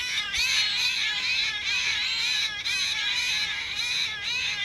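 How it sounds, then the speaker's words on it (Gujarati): Birds at a farm call noisily and continuously, harsh overlapping chattering cries close by with no talk. "જો ચકલા કેવા બોલે છે,"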